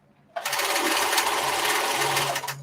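Sewing machine starting abruptly and stitching in a fast, steady, close whir for about two seconds before slowing at the end.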